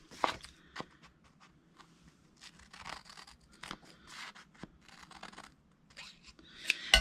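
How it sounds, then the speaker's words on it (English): Scissors trim excess paper from a handmade envelope in a quiet craft session, a series of soft, close snips and rustling paper scrapes with occasional handling noises. "now we'll just trim that excess paper off."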